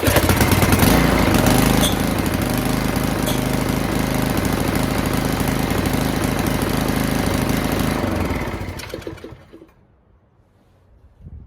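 Briggs & Stratton small engine running after a carburetor rebuild, a loud, close, steady chugging drone that holds for about eight seconds, then dies away and falls quiet.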